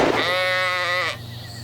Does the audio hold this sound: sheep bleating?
yes